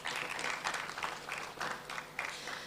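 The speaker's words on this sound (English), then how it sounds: "Please, can't you clap for this?" Audience clapping at the National Medical Congress 2025 at AICC in Arusha, quiet and uneven with a few swelling bursts over a short stretch, no voices on top.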